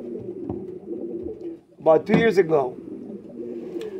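Powder pigeons (Polvacera) coo at a pigeon show, a continuous low burbling cooing with a voice cutting in briefly near the middle.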